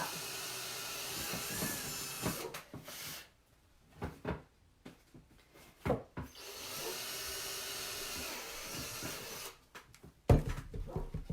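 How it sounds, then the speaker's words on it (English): A power drill whirs in two sustained bursts drilling a hole in a wooden flip-flop strap, separated by short clicks and handling knocks, fairly close and with no talking. "I'm gonna drill a hole right in the middle of the top of this strap."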